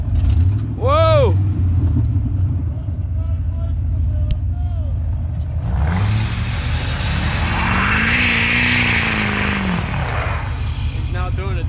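A mud truck with no clutch or working gears revs hard while pulling in snow, its loud engine rising and falling in long surging whines, close by, with voices talking over it.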